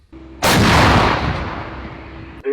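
A Polish Krab self-propelled howitzer fires a single very loud, close artillery shot, the sharp blast rolling into a long booming echo that fades over about two seconds.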